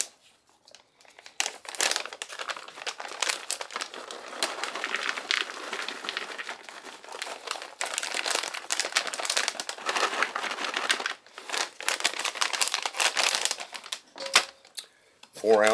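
Plastic bag of walnuts being opened and handled in a kitchen, giving dense, close crinkling and rustling that runs nearly continuously, with brief pauses and a short tonal blip near the end.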